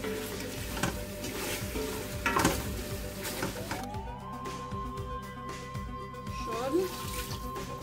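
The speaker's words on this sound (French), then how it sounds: "Et là, je mélange bien." A pot-au-feu with a spoonful of tomato paste is stirred in the pot, its steady sizzle and spoon scrapes mixing with kitchen clatter, while a sustained tone enters partway through and a voice speaks briefly.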